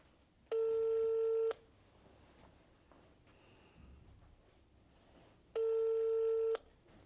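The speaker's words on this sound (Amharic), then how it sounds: "በሱ ልደውልና" Two long telephone ringback tones sound on a call to a public number, each lasting about a second, separated by a quiet gap of roughly four seconds, with faint background noise and no talking.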